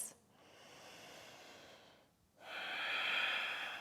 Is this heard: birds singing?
no